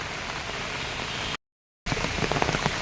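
Steady rain falls in Ratnagiri's Khed taluka, a dense close hiss of drops on surfaces that cuts out briefly to silence and then returns with a few heavier spatters.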